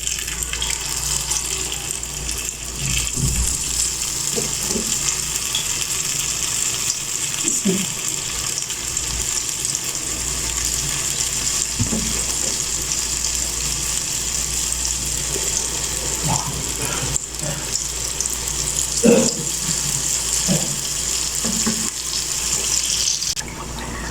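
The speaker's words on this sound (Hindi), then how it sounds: "अब हमारे बड़े फ्राई हो रहे हैं" Dahi vada batter balls frying in hot oil in a kadai, giving a steady hiss that sounds like running water, with faint scattered clinks and low background voices.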